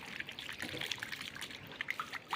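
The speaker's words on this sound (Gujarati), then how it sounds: "હવે હાથ ધોઈ લઈશું." Running water trickles and splashes softly and steadily, as if hands are being rinsed under a tap, with no voices.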